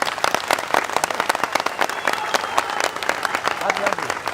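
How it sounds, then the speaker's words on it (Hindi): A crowd at a Bhim Army rally applauds to welcome the arriving Kota team, a steady run of dense clapping with a voice speaking over it. "इनका भी तालियों से स्वागत किया जाए।"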